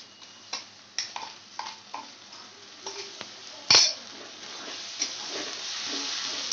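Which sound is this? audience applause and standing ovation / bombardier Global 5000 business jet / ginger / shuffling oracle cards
ginger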